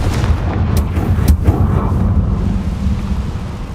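Confringo blasting spell detonating in Hogwarts Legacy, a loud rumbling explosion with a couple of sharp cracks early on, then a sustained low roar of debris and echo with no voices.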